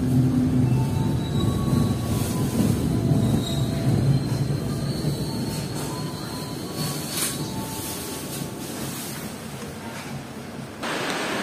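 Kutojaya Utara passenger train arriving at Kutoarjo station, a loud continuous rumble of wheels on rails with faint squeals that slowly eases as it comes to a stop.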